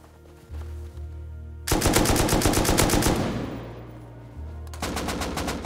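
Gunfire in the survival video game Rust, with loud close bursts of rapid automatic shots, a short fading pause, then another volley, and no talking over it.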